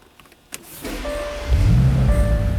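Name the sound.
car engine starting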